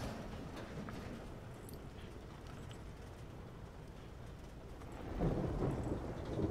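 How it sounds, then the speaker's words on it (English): Steady rain hisses and patters in the video game Death Stranding, with low rumbling thunder swelling louder near the end; no voices are heard. "Here comes the rain. This is the worst."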